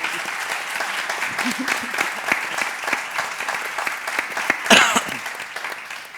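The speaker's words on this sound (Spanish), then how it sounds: "quiero que os deis un aplauso" Audience at a Spanish round-table discussion breaks into steady applause, many hands clapping densely throughout with a brief louder burst near the end, a cough or throat clear also audible in the crowd.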